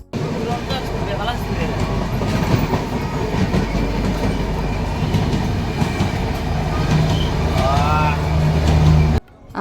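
A moving train in Assam rumbles steadily with rhythmic clatter of wheels on track, loud and continuous, with voices faintly audible over the noise.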